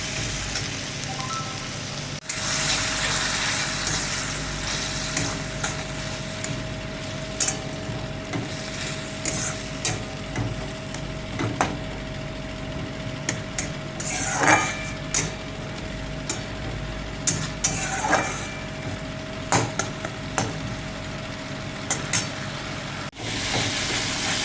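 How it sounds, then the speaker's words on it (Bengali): Masala for a dhaba-style egg tarka sizzles in a pan with a splash of water, a steady low frying hiss under a faint hum, punctuated by intermittent spatula scrapes and clicks. "যাতে মশলাটা ভালো করে কষানো হয়।"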